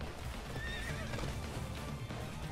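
Horse in the Attack on Titan video game, hooves clip-clopping steadily with a whinny, fairly loud and continuous against a busy game backdrop with no talking.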